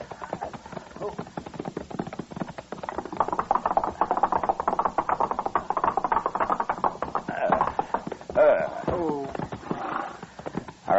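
In the radio drama Gunsmoke, rhythmic clip-clop of a horse's hooves drawing a buggy, steady and close, with a brief whinny and a short exclamation near the end.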